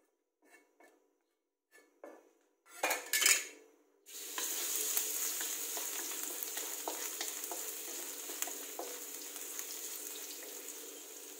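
Rice stir-fried with canned fish in a pan, garlic, kale and egg also in the dish: a few scraping knocks, then a loud, steady sizzle of frying that continues to the end.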